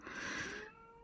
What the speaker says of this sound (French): vous avez le son derrière. C'est le chat.